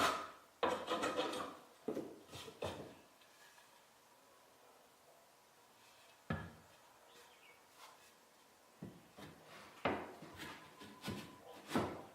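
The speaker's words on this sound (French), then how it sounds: "Je fais donc des retouches au guillaume." A rabbet plane trims a wooden tenon for a wooden trestle, with repeated close, raspy shaving strokes in bursts separated by quiet pauses and no talking.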